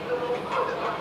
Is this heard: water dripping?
no